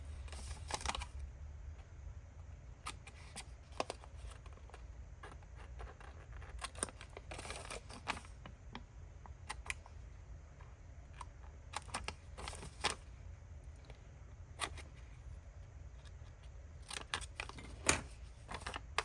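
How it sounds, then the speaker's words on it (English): Scissors cut the corners of paper for vellum envelopes, giving faint, close snips and clicks scattered irregularly over a low background hum. "So cut the corners"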